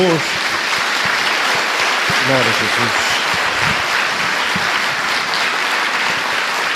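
Church congregation applauding, a steady roar of clapping that runs throughout while voices speak and call out over it.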